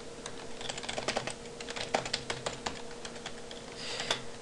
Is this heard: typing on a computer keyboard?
yes